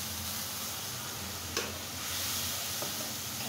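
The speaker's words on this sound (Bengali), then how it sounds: "আমি এখন কিছুটা পেঁয়াজের পেস্ট দিয়ে দিলাম।" Onion paste frying with spices in hot oil for a goat-meat curry, a soft steady sizzle and hiss with a single sharp clink of a utensil midway, no voices.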